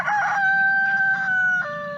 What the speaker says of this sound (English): those are some happy chickens